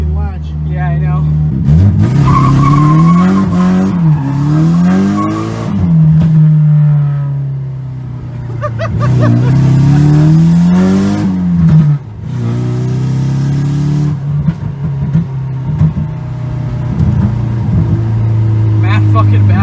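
A Nissan S14 engine revving hard in repeated rising and falling pulls, loud and close, with sharp backfire pops between revs while people talk over it.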